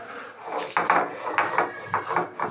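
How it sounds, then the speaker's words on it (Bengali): Fried brown garlic cloves being crushed into a paste for a Bangladeshi garlic bharta, giving a series of rhythmic dull pounding and grinding strokes on a hard surface, close and fairly loud, with no talking. "রসুনটা আমি পেস্ট করে নিচ্ছি।"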